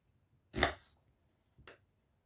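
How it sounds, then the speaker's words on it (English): Knife chopping leek into small pieces on a cutting board by an inexperienced home cook: two separate chops, the first louder, then a quieter one about a second later, with no talking. "And you can tell by my chopping that I'm not by any means an experienced cook."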